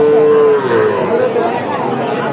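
Cattle at a rural bull and heifer market in Ghoraghat give a loud, close moo that slides downward, with crowd chatter and voices behind it.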